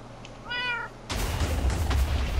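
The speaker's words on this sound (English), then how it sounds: "I heard a cat." A cat meows once in the game Minecraft, a short clear rising-falling call, followed by a burst of louder broadband game noise.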